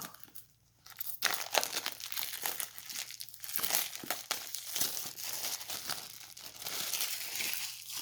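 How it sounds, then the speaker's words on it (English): Crinkling plastic shrink wrap is peeled and torn off a new Wild Reflections tarot deck, with continuous close crackling and rustling that starts after a brief quiet pause. "So let's unwrap and see what the Wild Reflections has to offer us."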